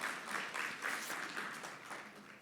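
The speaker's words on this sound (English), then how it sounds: "Another round of applause, please." A seated audience at a 2024 national dialogue on creative and cultural industries gives a short, faint round of applause, a soft, even patter of many hands heard from a distance.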